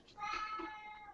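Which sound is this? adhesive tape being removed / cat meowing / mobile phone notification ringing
cat meowing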